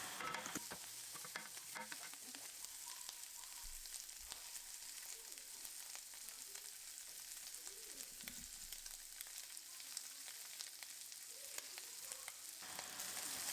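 Pork fat rendering and frying in a hot pan, a continuous soft sizzle with faint crackles and occasional spatula scrapes, steady and unbroken with no voices.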